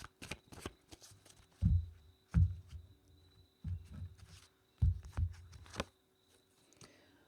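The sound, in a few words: shuffling tarot cards before drawing one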